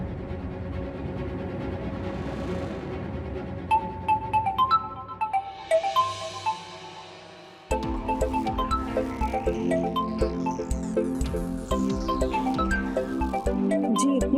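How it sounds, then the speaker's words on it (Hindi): A phone rings late at night with a melodic electronic ringtone, its bright repeating notes steady over a layer of dramatic background music, and no one speaks. "इतनी रात को किसका फोन आ रहा है?"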